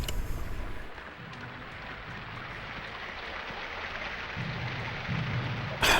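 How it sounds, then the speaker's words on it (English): Rain machine in the Space Station Silicon Valley video game, a steady hiss of synthetic rain with low thunder-like rumbles underneath, ending in a brief loud burst. "But you also have this rain machine."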